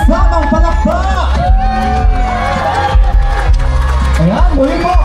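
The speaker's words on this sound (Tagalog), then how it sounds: "Paninig naman ang malakpak na sigawan na may kasamang palakpak" A crowd at a Christmas tree lighting in Calamba cheers and whoops for performers, a dense continuous roar of shouting voices with bursts of excitement throughout, close and loud.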